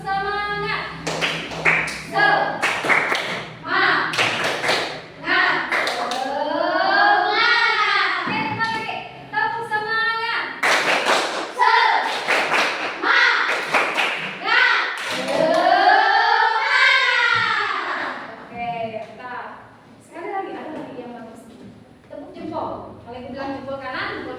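In a classroom, children and a teacher chant and clap in rhythmic bursts for an Indonesian clapping routine, sharp sets of claps alternating with sung call-and-response voices, close and loud.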